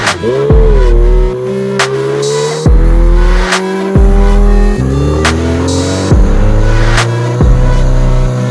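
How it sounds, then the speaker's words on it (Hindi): Superbike doing a burnout on new second-hand tyres in Delhi, its engine revving hard and repeatedly with sharp gear-like cutoffs, a high whining squeal running under the loud roar, and no talking. "तो इस खौफ के साथ आज हम मारेंगे बर्नआउट।"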